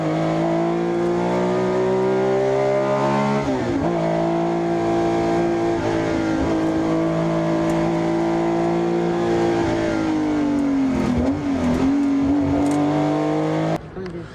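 Vintage prototype race car engine idling loudly and steadily at close range, with a brief rev dip partway through, while people talk nearby; set in a classic car show hall during preparations.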